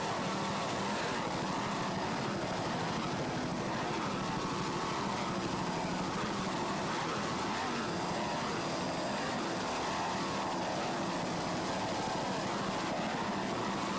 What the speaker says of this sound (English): Just listen to those two 750 horsepower Boyd inboards.